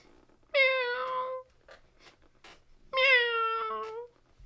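A small black cat meows twice, each call long and clear with a rising then falling pitch, spaced a couple of seconds apart against a quiet background.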